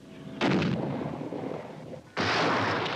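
Two heavy gunshots firing projectiles, each a loud booming blast with a long rumbling tail, the second following about two seconds after the first, with no voices.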